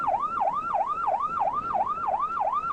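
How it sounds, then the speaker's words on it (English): Loud, close emergency vehicle siren in a police pursuit, wailing up and down in a fast steady cycle about three times a second, continuous over traffic noise with no talk. "He's got ear splitting siren."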